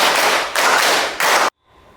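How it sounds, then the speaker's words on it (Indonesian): A classroom of pupils claps together in a rhythm, with three dense bursts of many hands striking close together before stopping abruptly into a quiet room. "2 kali tepuk 5."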